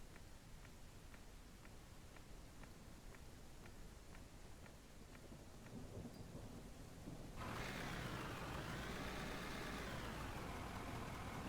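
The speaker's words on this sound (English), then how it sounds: "We got night and some rain, looks like." Steady rain hisses over a nighttime scene in the mining and driving game Out of Ore, with a low engine rumble underneath, the downpour swelling louder partway through and then holding constant.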